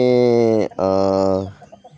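A lead hen in a backyard flock lets out two loud, drawn-out squawking clucks close by, followed by fainter chatter from the birds.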